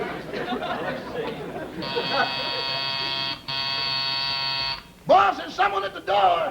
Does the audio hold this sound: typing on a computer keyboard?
no